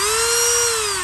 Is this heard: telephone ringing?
no